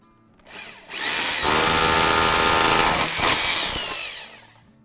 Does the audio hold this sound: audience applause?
no